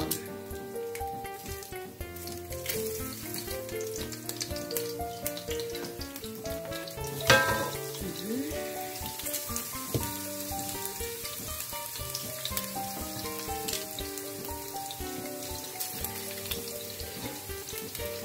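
Pressed garlic fries with beans in a pan, making a faint, steady crackling sizzle that runs on throughout, with music playing over it.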